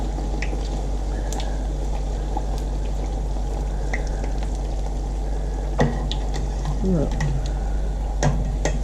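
Bhatura dough fries in hot oil with a continuous bubbling sizzle, steady and close, while someone briefly speaks over it and a utensil clinks once or twice.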